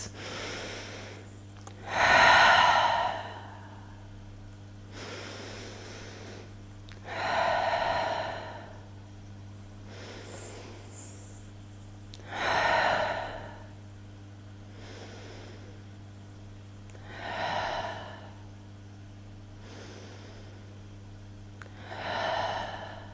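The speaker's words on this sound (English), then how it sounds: "We're going to stay here for 5 rounds of breath in through the nose." Slow yoga breathing through the nose during a vinyasa flow practice: five or six drawn-out breaths, each a soft rushing swell a few seconds apart, over a steady low hum.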